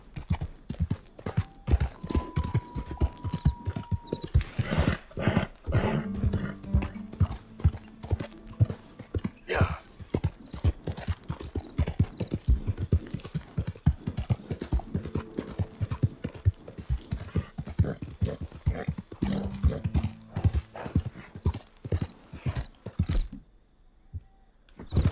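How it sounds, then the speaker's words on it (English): A horse gallops across open ground in Red Dead Redemption 2, its hooves striking in a fast, steady clip-clop for the whole stretch, close and clear, with occasional creaks of tack and a faint tone in the background. "No sé si es el caballo que corre más rápido o son ideas mías."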